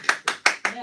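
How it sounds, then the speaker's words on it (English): Hands clapping in a morning radio studio, five quick, evenly spaced claps close to the microphone in under a second. "Let's clap for Belinda Hayes"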